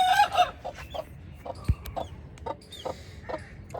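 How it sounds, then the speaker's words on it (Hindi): Chickens, including desi Aseel fowl and chicks, cluck in a bamboo shed on a home organic farm, a string of short, close clucks and chirps with one sharp bang partway through and no talk. "ये आप देखें चूज़े कितने अच्छे लगते हैं।"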